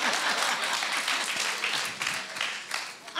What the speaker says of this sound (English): Well, at least a few people are clapping.